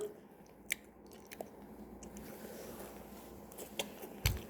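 Chewing grilled beef intestines wrapped with perilla leaf, heard as quiet, close mouth sounds with a few sharp bites and crunches spaced over several seconds against a faint background.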